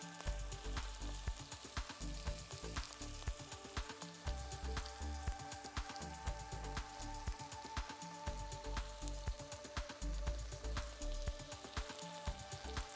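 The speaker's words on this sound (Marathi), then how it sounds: "चांगलं हलवून घ्यायचे." Asafoetida sizzles in hot oil in a pan, a soft, steady crackle with faint, regular stirring scrapes repeating throughout, quiet and close with no talking.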